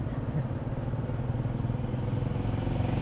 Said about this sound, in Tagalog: Grabe itong motor na to.